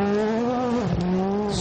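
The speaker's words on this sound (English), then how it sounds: "So much more higher revving than the World Rally Class. You can hear it out of that corner." A normally aspirated Super 2000 rally car revs hard out of a corner on the Rally Jordan power stage. Its high, buzzing engine note holds, dips briefly at a gear change, then climbs again, loud and close.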